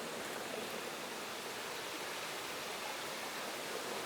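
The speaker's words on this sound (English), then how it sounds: "water was forced up to the surface to bubble out of the rocks here at Zebedee Springs in the Kimberley" Spring water bubbles up out of rocks at Zebedee Springs in the Kimberley, a steady close rushing hiss with no break and no voices.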